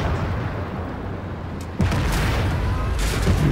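A tank's artillery gun fires in a tank video game. A sudden heavy boom cuts through a dense, roaring battle din, and loud rumbling noise continues afterwards.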